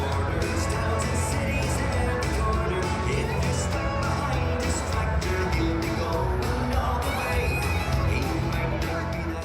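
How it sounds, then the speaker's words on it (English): A large crowd on a celebration night in Galway, a dense, continuous roar of chatter and cheering heard close and loud, with shouting voices blended throughout. "There's a great crowd in there, and the energy is high"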